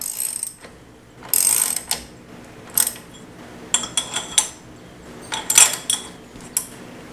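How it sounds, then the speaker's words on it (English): Motorcycle axle bolt being tightened with a ratchet wrench, giving bursts of quick metallic clicking and clanking tool strokes at close range, separated by brief pauses, with no voices. "So let's go ahead and tighten up the axle bolt again."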